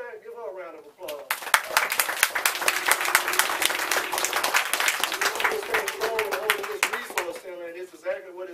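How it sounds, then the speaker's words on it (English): Community meeting audience breaks into loud, dense applause after a brief spoken line, clapping swelling and holding for several seconds before fading as talking resumes. "give her a round of applause."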